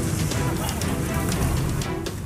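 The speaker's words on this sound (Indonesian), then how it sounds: "Hujan deras yang melanda sebagian wilayah Jakarta" Heavy rain falls across part of Jakarta, a dense steady downpour hissing on surfaces throughout without pause, loud and close.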